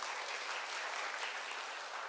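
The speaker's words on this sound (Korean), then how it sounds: "인사할 때에 박수 쳐주시고" A church congregation claps together during a Sunday service, a brief, even burst of applause heard from a distance.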